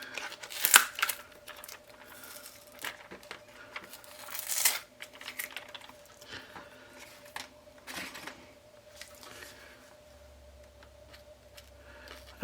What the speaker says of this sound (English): That is the first time I have ever had a problem opening a dice tube